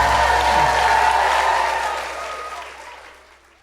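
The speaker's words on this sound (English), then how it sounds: "Done loads of cheering for Auckland." An audience at a live comedy podcast recording in Auckland breaks into loud applause and cheering that holds steady, then gradually fades away over the last couple of seconds.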